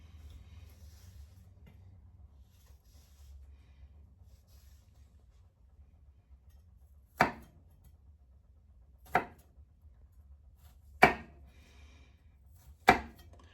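Garlic chopped with a kitchen knife on a cutting board: after several quiet seconds, four sharp, separate knocks land about two seconds apart, close and fairly loud.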